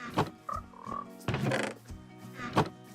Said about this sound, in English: I've got frogs everywhere